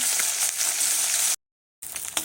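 Katla fish fries in a pan with a steady, close hissing sizzle that cuts out briefly, then resumes.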